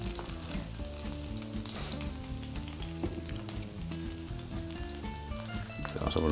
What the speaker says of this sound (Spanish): Lo vamos a sofreír un poquito y lo retiraremos